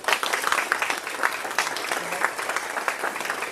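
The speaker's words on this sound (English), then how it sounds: "Let's give our candidates a big round of applause" An audience at a panel discussion applauds the candidates, a loud, dense, continuous patter of many hands clapping at close range with no break.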